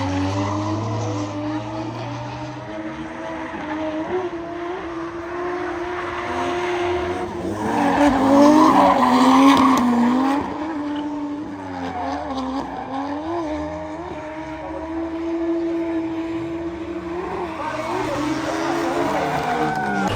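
A Toyota Mark II JZX100 drifting on a track in Portugal: a loud engine holds steady high revs with rising and falling pitch, shifts and surges, and tire squeal over a long continuous run, peaking in the middle.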